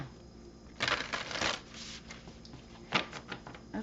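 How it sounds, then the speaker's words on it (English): Black Moon Astrology tarot cards being shuffled by hand, with bursts of riffling and flicking paper at close range and quieter handling between. "I want a good shuffle."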